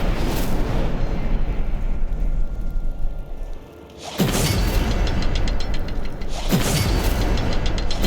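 Incendio fire spell cast in Hogwarts Legacy, a loud sustained roaring blast with two sharp bursts of flame, the second following a couple of seconds after the first, over continuous rumbling game sound.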